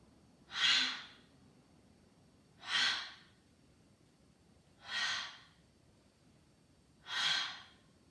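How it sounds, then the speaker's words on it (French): Four slow, rhythmic forceful breaths of breath-of-fire yoga breathing during an intermediate morning yoga session, each a loud airy burst spaced about two seconds apart, close and alone with no talk. "Respiration de feu qui ramène beaucoup d'énergie dans le corps"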